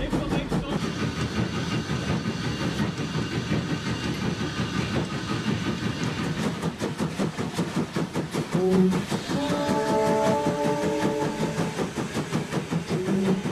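A heavy train runs along a French line, a steady rumbling roll with rhythmic clatter throughout, joined by brief tonal squeals or whistle-like notes near the end, fairly loud and continuous.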